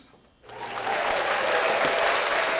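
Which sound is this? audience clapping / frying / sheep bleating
audience clapping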